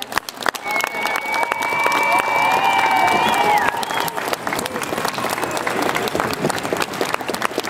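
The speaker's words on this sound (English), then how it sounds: "So if everyone would please give them a huge round of applause." An audience at an FFA state officer recognition event breaks into sustained applause, dense clapping with some cheering and a few voices, swelling early and then thinning out.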